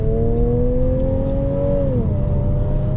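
A 2020 Ford Edge ST SUV with a 2.7 L bi-turbo engine accelerating, its steady low engine drone rising in pitch and then dropping briefly as it shifts, heard from inside the cabin with no talking.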